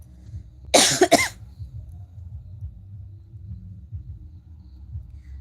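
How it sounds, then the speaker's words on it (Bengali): A person with a cold coughs once near the microphone, a short harsh double burst around the one-second mark, followed by quiet low background rumble. "এত ঠান্ডা লেগেছে মানে কথা বলতে গেলে আমার কাশি আসছে খুব"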